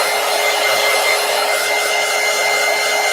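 Heat tool blowing to dry paint on a mixed media poster book: a loud, steady, close whooshing roar of hot air that runs without a break.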